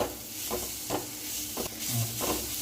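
A spoon stirs masala into cooking keerai greens for paruppu keerai kadayal, making a few rhythmic scraping strokes over a soft, steady sizzle in the pan.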